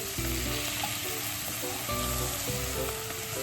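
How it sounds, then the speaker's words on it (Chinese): Shrimp heads and shells hit hot oil in a wok, a dense continuous sizzle with crackling and a few stirring scrapes, close and steady without talk. "热锅下油，倒入虾头和虾壳。"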